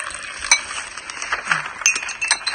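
Breakfast in bed with cutlery and crockery clinking, light scattered metallic taps and a soft stir of spoon against dishes, close and gentle with no talk.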